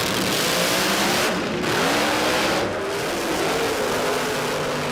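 Turbocharged drag race car launching hard down a drag strip at a street-car racing event, a loud sustained engine roar that climbs through gears with brief dips at shifts, heard from the trackside without any talking.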